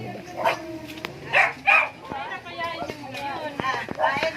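Several sharp dog barks and yips at middle distance, scattered irregularly, mixed with people talking nearby.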